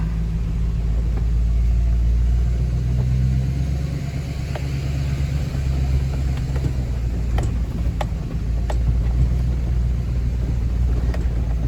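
A truck drives slowly along a freshly cleared woodland trail, its engine a steady close low rumble throughout, with scattered light crunches and clicks from the ground.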